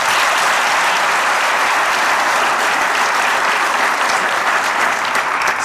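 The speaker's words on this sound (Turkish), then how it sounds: "Onlara da bir alkış rica ediyorum." A studio audience at a Turkish comedy show breaks into sustained, loud applause, a dense, even patter of many hands clapping together without pause.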